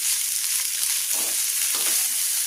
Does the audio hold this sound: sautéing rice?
yes